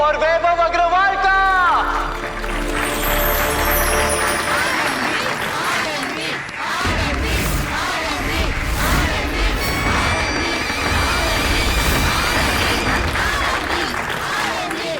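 A studio audience claps loudly and continuously to welcome two contestants onto a television show stage, the applause swelling under music and a voice.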